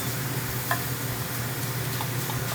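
Onions cooking slowly in a pan at a bakery commissary kitchen, giving a steady, soft sizzle with faint stirring scrapes throughout, no voices.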